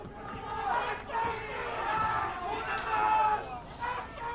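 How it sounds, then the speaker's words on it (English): A large crowd roars and chants steadily at a Valorant esports match, Cloud9 versus Leviatán in the VCT Americas Last Chance Qualifier lower final, with a loud, sustained arena swell running for several seconds. "And you hear it from the crowd,"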